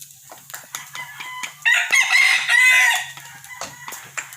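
A rooster crows in a backyard, one long loud cock-a-doodle-doo rising out of quiet background, preceded and followed by soft clucks and faint kitchen sounds.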